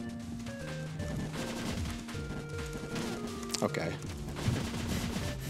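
Machine gun fire in the video game Cave Story comes as short stuttered bursts of blasts amid chiptune music and game effects, while someone talks over it.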